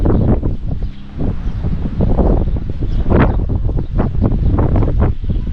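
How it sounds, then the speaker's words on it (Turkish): Strong wind buffets the microphone in loud, gusty bursts, rumbling and rustling continuously without a break. "Bayağı rüzgar var."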